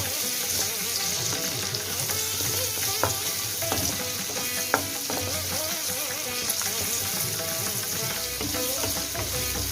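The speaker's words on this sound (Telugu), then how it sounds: "ఉల్లిపాయ బాగా వేగాలి" Onion and curry leaves fry in hot oil as a tempering for Andhra-style sambar. The sizzle is loud, close and continuous, with occasional stirring clicks against the pan and no speech.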